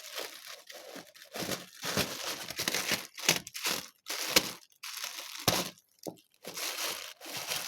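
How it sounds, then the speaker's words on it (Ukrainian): Close, quiet crinkling and crumpling of a plastic bag while a parcel is opened, coming in irregular bursts of rustling with short pauses between them. "Ну ладно, давайте распаковываем."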